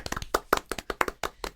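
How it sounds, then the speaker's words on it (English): A short round of clapping from a few hands on a podcast, distinct close claps in a quick uneven rhythm, about a dozen sharp slaps over under two seconds with no talking. "Come on, round of applause."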